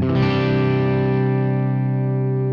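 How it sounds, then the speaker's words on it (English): A single distorted electric guitar chord through a Marshall amp rings out loudly and sustains, slowly fading with a buzzing, saturated tone. "There's definitely a distortion there"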